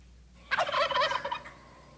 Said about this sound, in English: the gobbling of turkeys